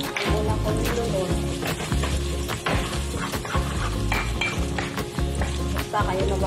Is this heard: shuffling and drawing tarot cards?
no